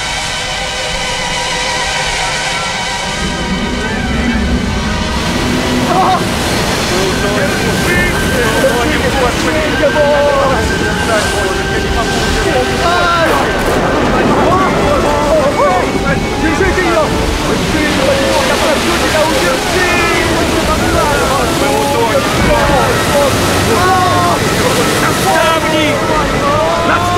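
Loud rushing water and wind roar over a boat in a storm, with waves surging and splashing continuously and a voice shouting faintly underneath.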